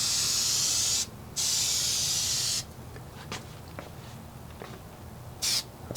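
Spray can coating metal bars ahead of stenciling, with long close hissing bursts starting and stopping, then quieter handling sounds and a final short spray burst.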